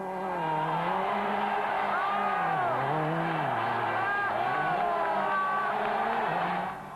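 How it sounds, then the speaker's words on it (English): Gilles Panizzi's rally car at Rally Catalunya's Viladrau stage spins a 360° donut near a bridge, its engine revving hard and steady with rising and falling pitch and tyre squeal over several seconds, a crowd faintly audible beneath. "But what was the story behind Panizzi's crowd-pleasing spin at the bridge?"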